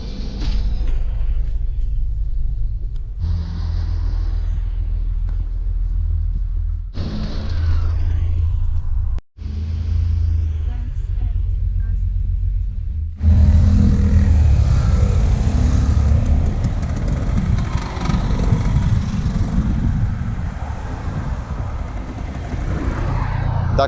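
Engine rumble of a red double-decker bus carrying passengers in Cornwall, England, a steady low drone that swells louder and rougher partway through, with faint voices now and then beneath it.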